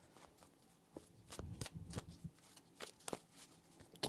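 Tarot cards shuffled by hand in a few scattered bursts of soft riffling and slaps, quiet and close with brief pauses between handlings.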